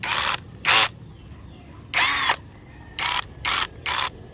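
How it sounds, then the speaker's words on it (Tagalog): An electric drill labours under load in repeated short bursts, each loud whirring pull stalling and ratcheting before stopping, with quiet gaps between bursts. "Yan mga ka-farmers gumagana yung ating drill pero hindi na niya kaya yung puwersa yan o no?"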